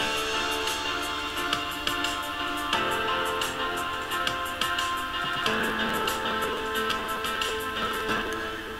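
A drum and bass intro made in FL Studio to imitate an old vinyl record, with steady crackle and hiss over a filtered, muffled-sounding arrangement with periodic hits, moderately loud and unbroken, no voices.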